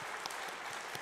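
A church congregation at a Friday service applauds the worship team, giving brief, dense, even clapping from the room throughout.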